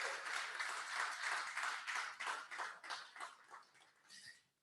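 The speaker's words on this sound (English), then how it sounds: "let's have a round of applause for that" Audience at a graduation ceremony applauds steadily, a dense wash of many hands clapping at a constant level before thinning out and fading toward the end.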